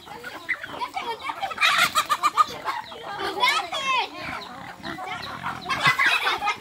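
Chickens cluck and squawk busily while being fed corn, alongside pig grunts, with children chattering and voices talking throughout.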